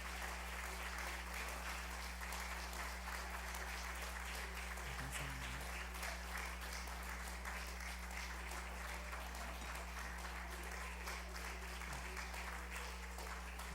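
A church congregation claps warmly during a Sunday worship service celebrating a deacon ordination, producing steady, sustained crowd applause for about fourteen seconds with no pause in intensity.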